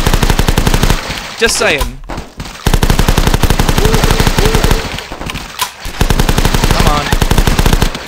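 Rapid automatic gunfire in The Last Stand video game, loud and sustained in steady bursts that break off briefly twice, with a short spoken remark slipped in between.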